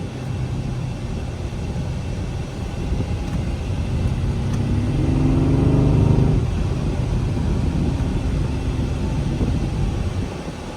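2017 Mercedes GLE63 AMG engine accelerating under light throttle, a steady low rumble that swells and rises in pitch around the middle, heard from inside the cabin with road noise, no talking.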